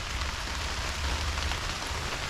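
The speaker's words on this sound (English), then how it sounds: "It's raining." Steady rain pattering through young oak trees in Sherwood Forest, a continuous close hiss of drops on leaves and surfaces with a low rumble beneath, no voices.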